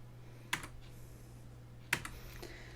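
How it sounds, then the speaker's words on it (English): Two distinct clicks from a computer keyboard as keys are pressed to tab through interactive elements on screen, sharp and close against a steady low hum. "I hit tab to go through the interactive elements."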